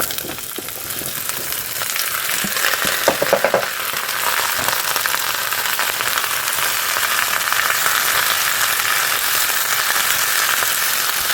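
Garlic frying in a pan for a spinach dish, a steady, close, bright sizzle with a few brief clinks near the start, continuous and loud with no voices.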